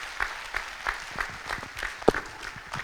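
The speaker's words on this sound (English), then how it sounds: "Let's give her another round of applause, please." Applause from an event audience for a speaker who has just finished, a thin, fairly quiet patter of separate hand claps with one sharper clap standing out near the end.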